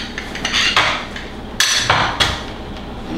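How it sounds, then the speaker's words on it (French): A knife slices through a lemon on a board, giving several sharp cutting thuds and scrapes spaced across a few seconds, close and fairly loud with no talk. "on va couper le citron"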